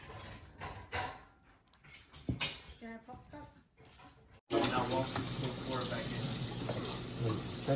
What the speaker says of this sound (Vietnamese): mình luộc xong rồi mình tưới lại nước lạnh cho nó xanh